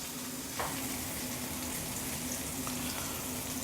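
Pork tenderloin frying in a cast iron skillet gives a steady, dense sizzle that holds at an even level throughout, close and continuous with no talk.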